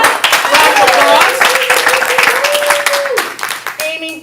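Applause from an audience at a ComedySportz improv comedy show fills the whole stretch as a dense, steady wash of clapping, with voices and crowd sounds rising over it.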